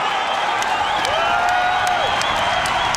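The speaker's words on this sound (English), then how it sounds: "Listen to the crowd react" A packed arena crowd at a UFC fight at the Cox Pavilion roars and applauds in a dense, continuous wash of cheers and clapping, with whoops rising out of it.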